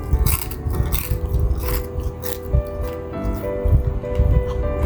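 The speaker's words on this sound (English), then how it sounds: "You will hear the crunch while I'm eating it." Crisp fried beef and eggplant being chewed close up, with repeated crunchy bites and squishy chewing noises in an irregular rhythm and no talking.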